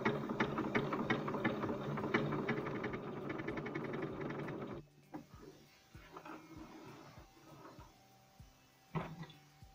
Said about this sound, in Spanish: Para crear otra letra o número, simplemente seleccionamos la puntada y cosemos.